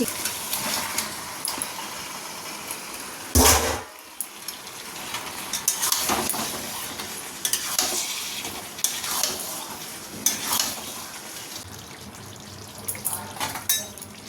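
Chicken curry masala with tomato sizzling in a pan, with a metal spoon scraping and stirring, a loud clatter partway through and scattered clinks over a steady frying hiss; no talking.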